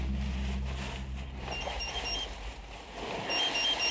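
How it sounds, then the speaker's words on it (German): Gas monitor in a sealed tunnel giving a string of short, high, evenly spaced beeps over low rumbling background noise, faint at first and growing more insistent. "And then his gas monitor beeps."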